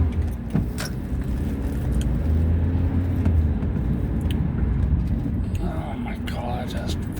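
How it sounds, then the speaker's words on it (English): Steady car engine and road drone from inside a vehicle in heavy Christmas traffic, with light rattles and someone talking over it. "Fucking traffic is insane."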